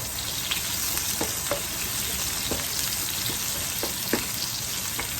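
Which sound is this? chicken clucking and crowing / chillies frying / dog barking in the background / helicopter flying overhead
chillies frying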